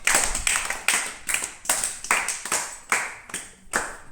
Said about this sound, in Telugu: క్లాప్ మా